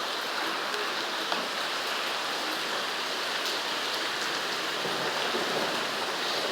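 Heavy rain falls in a continuous, even roar of drops on surfaces, close and loud throughout, with no speech.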